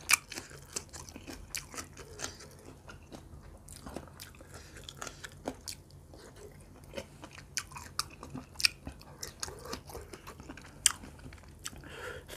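Someone eats barbecued pork with pla ra, spicy som tam and crisp vegetables. Close, crisp crunching bites and chewing repeat steadily throughout, with no talking.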